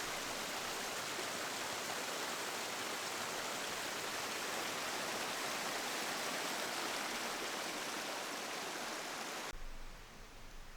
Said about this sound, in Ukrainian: там він перетворюється в водоспад якийсь. Можливо, не сильно великий, але ж шумний.